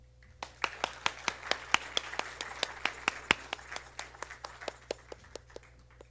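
Audience applause welcomes a Carnatic musician onto the stage at a Bharatanatyam arangetram, with distinct claps rising and then thinning out, steady against a low background hum.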